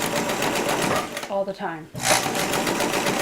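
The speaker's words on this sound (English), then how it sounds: "Yes, I sew over needles" Sewing machine stitching through fabric over pins while sewing sculpted animal feet for a costume, a loud steady whirring run that stops briefly as someone speaks, then resumes.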